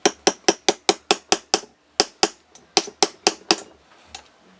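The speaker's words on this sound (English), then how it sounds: "if you have to give it some taps, you can manipulate it. So I like to use this hammer" A hammer tapping a pin out of a Walther P88 Compact pistol: about a dozen sharp, ringing metallic strikes in a quick, steady rhythm, close and loud, pausing briefly midway before a final few taps.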